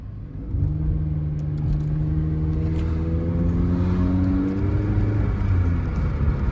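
A Nissan Altima with a CVT and about 135,000 miles accelerates from the inside. The engine drone rises in smooth, stepless pitch sweeps, with a low rumble, and holds loud and close after a quiet start.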